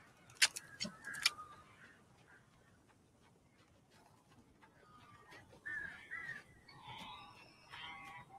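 Birds caw and squawk in the video game Alan Wake, scattered harsh calls over a quiet, faint background, some sharp and close, others softer and farther off.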